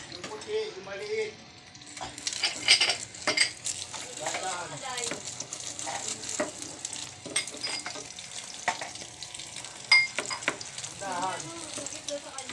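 An egg frying in a pan, a steady close sizzle and crackle running throughout with occasional stirring scrapes, while voices talk over it at intervals.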